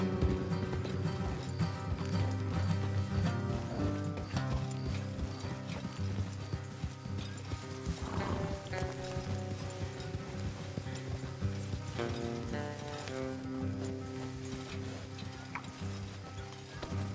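Horses trotting with steady clip-clop hoofbeats in Red Dead Redemption 2, carried under a dense, continuous layer of music and game ambience that runs the whole way through.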